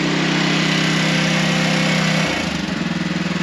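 Small gasoline engine on a Thunder Creek MT690 fuel trailer runs loud and close at a steady higher speed, then drops to a slower, lumpier idle about two-thirds through.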